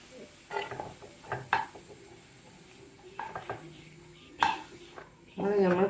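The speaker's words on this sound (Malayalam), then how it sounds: "എല്ലാം അതിലേക്ക് തട്ടി കൊടുക്കുക" Ingredients are tipped from a pan into a pot on a kitchen stove, with a few scattered clinks and scrapes of metal utensils and cookware, fairly quiet and close, followed by a brief louder sizzling rush at the end.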